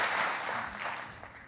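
An audience at an entrepreneurship awards concert gives a short burst of full applause that fades slightly toward the end.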